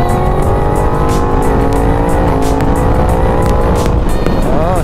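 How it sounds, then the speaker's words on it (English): A Yamaha MT-10 motorcycle accelerating hard on an expressway, its engine note climbing steadily and loud throughout with heavy wind roar, heard up close from the rider's position. "So I'm just showing you how torquey this bike is"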